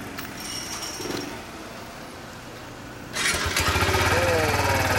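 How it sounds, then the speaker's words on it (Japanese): A 2016 Kawasaki Z125 PRO, a small 125cc four-stroke motorcycle, sits quiet with faint background noise, then its engine is started and settles into a loud, steady idle putter. "ごめん、あのエンジンかけてもらえるかな。"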